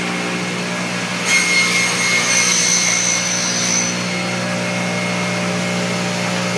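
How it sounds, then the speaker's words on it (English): A large CNC router runs in a wood workshop with a steady, loud mechanical drone. A higher whine rises for a few seconds as it cuts, then fades back to the even hum, with no talking. "This big machine here is called a CNC router."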